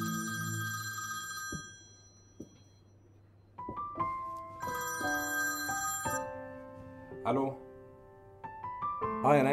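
A mobile phone rings with a repeating electronic ringtone melody of bright tonal beeps and chimes, fairly faint and intermittent, with some speech around it.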